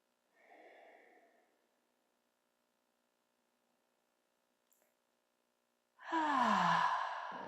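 A long, deep breath drawn slowly during a yoga stretch, then a loud, full sigh-like exhale a few seconds later, both close and alone with quiet between.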